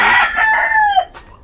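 A rooster crows once nearby, a loud drawn-out call that rises and trails off, heard alone in a rural Batangas yard with a brief faint rustle after.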